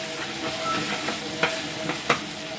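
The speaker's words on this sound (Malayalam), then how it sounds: "ഇഞ്ചി വെളുത്തുള്ളി നന്നായി ഇളക്കി" Ginger and garlic stirred in a hot pan at a Kanthalloor cottage kitchen, a steady close sizzle broken by a few sharp scraping clicks of the spoon against the pan, with no talking.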